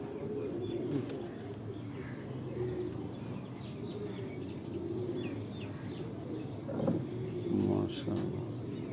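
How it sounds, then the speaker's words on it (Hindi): Red-pearl pigeons with vermilion eyelids, long-flying birds, coo softly on a rooftop, a faint, low, repeated cooing under a quiet outdoor hum, with occasional chirps and a voice speaking nearby. "ये एक हमारे पास है लाल मोती संदूरी पलक वाले हैं, मोतियों वाले कबूतर।"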